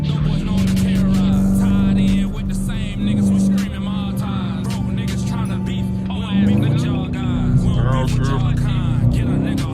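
A loud 5.7L Dodge Challenger R/T engine drones and revs in daytime traffic, its pitch rising and shifting as it accelerates, with a voice talking over the engine noise.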